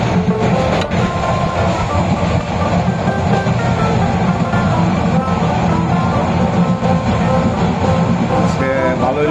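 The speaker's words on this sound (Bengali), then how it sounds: "এক্সপ্রেস ট্রেন মানে ইন্টারসিটি ট্রেন আজকে" The Bijoy Express intercity train runs loud and close from inside a carriage near the border, with a steady low rumble, rattling wagons and faint clickety-clack throughout.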